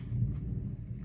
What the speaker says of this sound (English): I don't know if you guys can hear that or not, but it is storming outside.